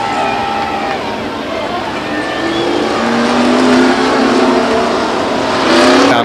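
Race trucks roaring down the front stretch off turn 4 at Stockton 99 Speedway, a continuous loud engine drone with rising revs and faint tire squeal, voices faintly mixed in under the din.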